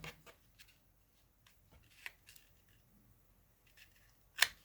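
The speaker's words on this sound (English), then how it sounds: "I got a pair of scissors here." Quiet, sparse snips and crisp cutting sounds come in short bursts, with a louder sharp snip near the end.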